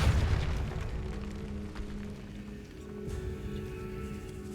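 A Depulso spell cast in the Hogwarts Legacy video game lands as a low, booming burst at the start, then fades into a quieter rumbling tail.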